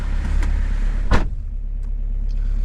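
Car engine idling after a jump start with a Dnipro-M JS-12P booster, a steady low hum with a sharp click or thump near the middle and faint ticks, close by.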